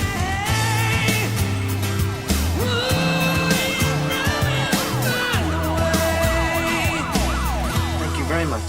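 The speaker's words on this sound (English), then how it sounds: "The secretary is calling Kevin's mom and an ambulance now." A wailing emergency siren rises and falls repeatedly over layered tonal sounds, loud and close, continuing throughout.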